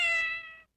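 Quagmire's cat in Family Guy gives a single clear, bright meow that sits close to the listener and then fades out, with no other sound around it.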